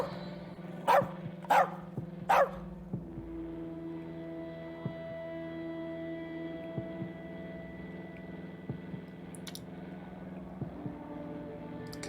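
In the video game As Dusk Falls, a dog barks three sharp times in quick succession, then the scene settles into a low hum broken by faint clicks and small sounds.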